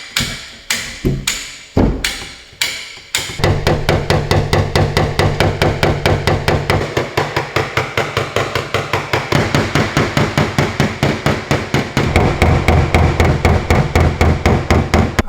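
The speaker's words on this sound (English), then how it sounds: "I'm gonna bring my blending hammer on here and start gently tapping on all this" A blending hammer taps out a large dent in a car body panel during paintless dent repair: a few slow separate knocks, then a fast, steady run of close, sharp metallic taps.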